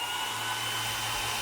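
A Xiaomi Mijia H500 water-ion hair dryer runs at a constant setting, its airy rush and faint motor whine held level and near with no speech.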